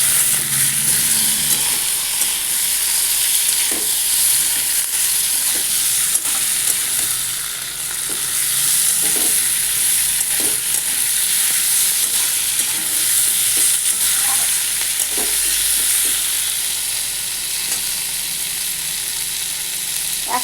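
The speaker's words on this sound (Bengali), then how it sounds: "এবার এটাকে ভালো করে একটু ভেজে নেব।" Boiled potatoes fry and get stirred in a pan for a vegetarian aloo dom with hing, with a steady close sizzle and repeated scraping stirs, no talking.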